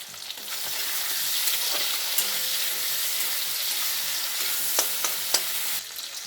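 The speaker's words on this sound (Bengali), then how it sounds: "এই টমেটোর মধ্যেই এখন পরিমাণ মতো লবণ দিয়ে দেব। কিছুক্ষণ নেড়ে চেড়ে নেব।" Chopped tomatoes with salt frying in a pan, a steady close sizzle running throughout with intermittent stirring scrapes and a few sharper utensil clicks.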